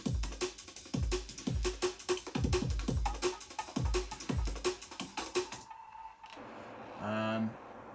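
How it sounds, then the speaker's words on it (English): A drum and bass drum track with an added hi-hat break plays loudly with punchy repeating kicks and bright crisp hats, then cuts out near the end as a faint voice and other sound follow. "So now the drums sound like this."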